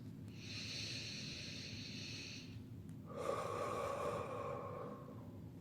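Slow, deep breathing during a stretching session: one long soft exhale, a short pause, then another drawn-out breath, close and quiet over a low room hum.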